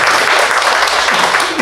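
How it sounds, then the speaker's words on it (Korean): An audience at a lecture on Protestant mission groups working on North Korea applauds, a loud, dense burst of many hands clapping steadily with faint voices mixed in underneath. "함께 박수 쳐주시면"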